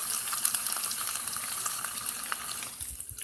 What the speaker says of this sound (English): There's 3 pork chops right there. Sizzling.